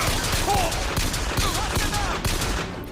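Continuous rapid gunfire in Bioshock Infinite, a loud unbroken fusillade with faint voices mixed in beneath the shots.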